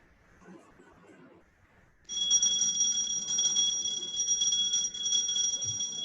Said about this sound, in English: So you can hear the bell loud and clear